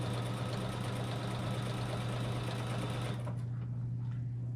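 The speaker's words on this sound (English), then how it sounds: "I'm just going to start stitching at the edge of the quilt" A sewing machine stitches binding along the edge of a T-shirt quilt, a steady fast mechanical hum and rattle running continuously and close, then easing off near the end.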